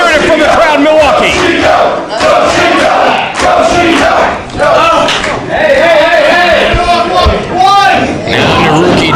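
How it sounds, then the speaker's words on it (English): A live pro wrestling crowd in Milwaukee roars and chants in loud, surging waves, with sharp slaps and thuds from the ring cutting through and a commentator talking over the noise. "hearing it from the crowd in Milwaukee"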